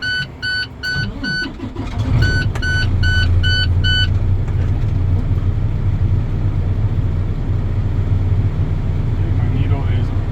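Truck engine at a CDL test cranks with a beeping alarm, then settles into a loud, steady low idle that runs without a break to the end.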